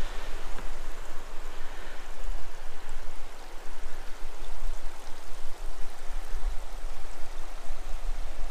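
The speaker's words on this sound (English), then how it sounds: "see the little Miami River over there on the right" Continuous broadband rushing of the rocky Little Miami River flowing nearby at John Bryan State Park, a steady even wash of water with no talking.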